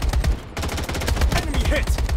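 Gunfire in the video game BloodStrike sounds as a dense, loud burst of rapid shots, near and continuous across the whole moment.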